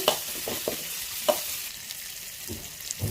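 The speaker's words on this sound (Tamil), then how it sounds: "இப்போ இதை நல்லா வதக்கிட்டு," Tomato, onion and garlic sautéing in a pan for a bitter gourd fry, a steady soft sizzle broken by several sharp stirring scrapes and clicks, close and alone with no voices.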